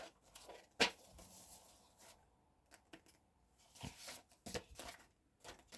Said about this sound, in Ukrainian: Ось, трошки порвала пакетик